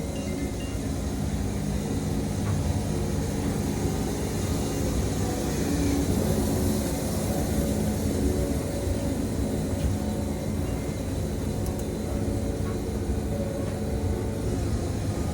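A Woodmizer 747 sawmill cuts wood with a cheap carbide band blade, making a loud, steady, unbroken roar of engine and blade noise that holds at an even level from start to finish, with no talking.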